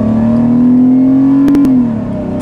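Chrysler LeBaron with a new intake accelerating, engine revving up loud and close in a rising then falling whine, with a couple of brief clicks near the end.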